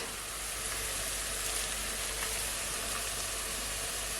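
Minced beef frying in a hot pan for Jamaican beef patty filling, a steady close hissing sizzle with no pauses, no voices.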